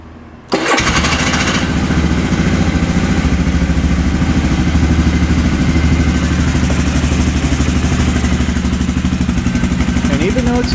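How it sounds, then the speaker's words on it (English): A 2019 Can-Am Outlander 450L ATV's single-cylinder engine cranks, catches and settles into a loud, steady, throaty idle with rhythmic clatter close by, running continuously to the end. "it still has that Can-Am sound"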